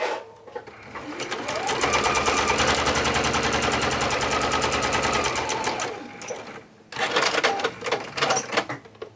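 Sewing machine running a straight stitch on fabric, a fast close mechanical rattle sustained for several seconds, then a pause and a shorter second burst of stitching.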